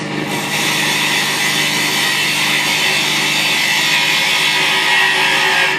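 A snowman Christmas ornament spins on a wood lathe as a cutting tool reduces its diameters, giving a loud, close, continuous hissing scrape over the machine's steady hum, with no talk.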